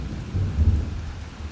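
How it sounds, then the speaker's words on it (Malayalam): Thunder rumbles low and heavy through steady rain, a single rolling peak swelling and fading over a second and a half, with no talk. "ഇടിവട്ടർ ചെറിയ പേടിയാണ്."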